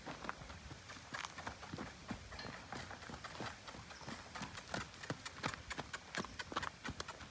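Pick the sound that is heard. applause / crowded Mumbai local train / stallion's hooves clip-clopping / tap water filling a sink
stallion's hooves clip-clopping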